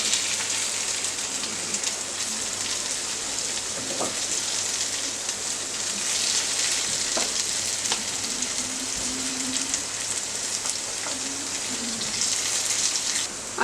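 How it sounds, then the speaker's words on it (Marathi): Maggi tikki frying in a pan on medium gas, a steady loud sizzle running throughout with a few soft pops and crackles, no voices. "आता दुसऱ्या साईडने पण मीडियम गॅसवरती फ्राय करून घेऊया।"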